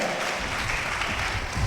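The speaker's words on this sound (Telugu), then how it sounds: "గట్టిగా చప్పట్లు కొట్టి గట్టిగా" Church congregation applauding loudly at a testimony gathering, steady dense clapping from many hands that continues without a break.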